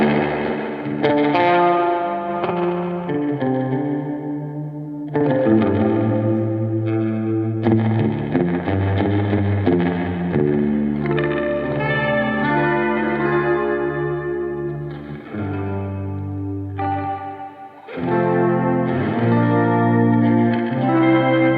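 Electric guitar played through an effects pedal with chorus and vibrato engaged together, a continuous run of shimmering, warbling chords and notes with echo and reverb tails, loud and close, brief dips between phrases.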